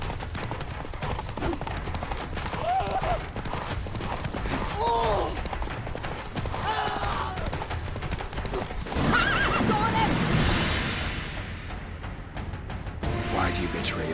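Roach the horse gallops in The Witcher 3 with a steady clatter of hooves and repeated whinnies, while a voice speaks over the game sound.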